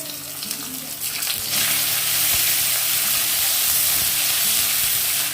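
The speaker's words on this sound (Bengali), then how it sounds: "এবার কুচনো পেঁয়াজগুলো ভেজে নেব।" Chopped onions sizzle in hot oil with a bright, steady crackle that grows louder after the first second or so and keeps going at an even level, with occasional faint stirring.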